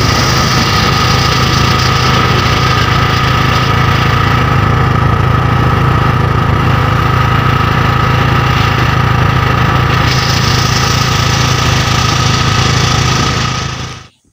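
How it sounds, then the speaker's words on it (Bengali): An easy bike auto-rickshaw's engine hums steadily while riding along the Khulna–Mongla highway, a loud, constant drone with vibration and road noise that cuts off abruptly at the end. "তারপর আবার অটো নিলাম, এটাকে বলে ইজি বাইক।"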